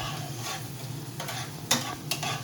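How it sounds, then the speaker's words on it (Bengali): Marinated chicken frying in hot mustard oil, a steady close sizzle with a few sharp stirring scrapes and clinks breaking through partway along. "এবার ভালো করে ফ্রাই করা হবে। আর এখানে চিকেন রয়েছে, পুরো কমপ্লিট ম্যারিনেশন দেওয়া রয়েছে চিকেনটার মধ্যে"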